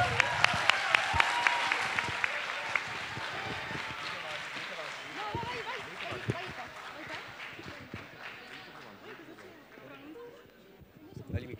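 Audience applause at a green school event welcomes arriving students, starting as a loud burst of crisp claps that gradually thins and fades beneath rising crowd chatter and nearby voices.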